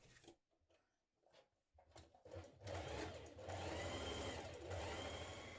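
A sewing machine stitches the underarm seam of a dress sleeve with a 1.5 cm allowance, starting after a few soft handling clicks and then running in a steady, close, continuous whir.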